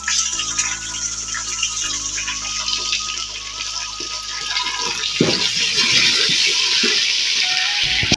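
Chicken pieces fry in a pan with browned onions for a chicken and chana dal dish, giving off a steady, loud hissing sizzle with occasional stirring scrapes and a low background hum.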